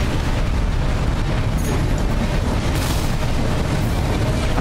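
Big missiles exploding in Armored Core VI, a dense continuous roar of booming blasts with sharp bursts near the middle and end, loud and sustained with no talking.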